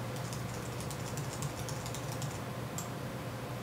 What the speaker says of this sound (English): hit E on my keyboard to move them